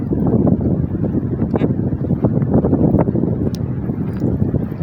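Strong typhoon wind roars and buffets steadily throughout, a dense, continuous rushing noise with gusty swells and no speech.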